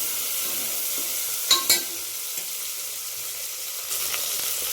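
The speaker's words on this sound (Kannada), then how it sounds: "ಇದು ಟೊಮೆಟೊನ ಚೆನ್ನಾಗಿ ಸಾಫ್ಟ್ ಆಗೋವರೆಗೂ ಫ್ರೈ ಮಾಡ್ಕೋಬೇಕು." Chopped tomato frying in a pan until soft: a steady broad sizzle runs throughout, with two sharp spoon-on-pan clinks near the middle and a few softer stirring scrapes later, no talk.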